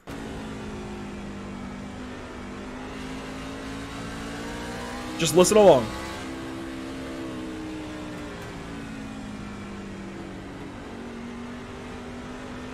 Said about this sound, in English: to when this motor lets go.